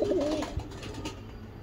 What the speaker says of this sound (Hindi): ये देखिए आप लोग कबूतर।